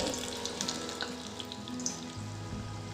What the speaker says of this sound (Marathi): पण छान तळून झाली मस्त